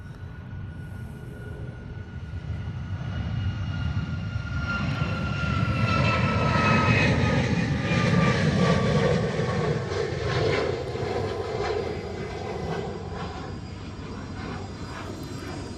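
A Learjet taxis near a runway in Hawaii, its jet engine roar swelling to a loud peak and then easing off over about sixteen seconds, a broad rumbling whine with no talk.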